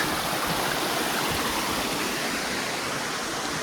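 A steady rush of flowing water fills the clip, constant and close, with no voices.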